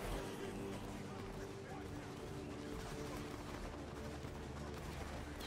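Musket fire cracks through a Napoleonic Wars video game battle, a faint, steady din of distant shots and clatter running underneath a constant low rumble, with voices talking over it.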